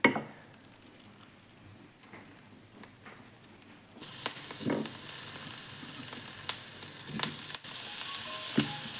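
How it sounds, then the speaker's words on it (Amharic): Food roasts in a pan, likely with butter, giving a soft crackle that jumps into a louder, fuller sizzle partway through, with occasional stirring scrapes and no talk. "እየቆላ ነው እንደዚህ እንቆላዋለን።"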